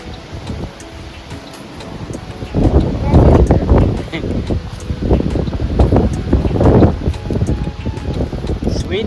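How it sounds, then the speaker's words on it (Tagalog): Gusty wind blows outdoors on a hike in Canada, roaring against the microphone in strong surges that swell and fade over several seconds, with quieter stretches between gusts. "It's windy here."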